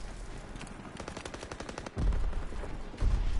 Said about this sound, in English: so many grenades being thrown